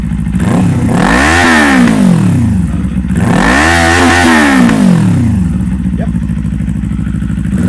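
A 2024 Kawasaki Eliminator 450 motorcycle fitted with a Coffman's Thunder exhaust revs hard twice, each rev a rising, then falling roar over a loud running idle, with a brief spoken reply heard.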